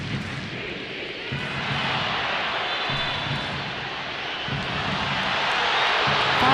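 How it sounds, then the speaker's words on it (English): Stadium crowd at a women's soccer match between Portland Thorns and Orlando Pride, a broad, steady wash of distant voices grumbling after a foul call, swelling slightly toward the end. "You can hear the crowd. Doesn't like it."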